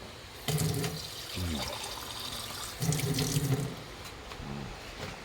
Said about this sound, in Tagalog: Lagyan natin ng tubig para talagang lutong-luto.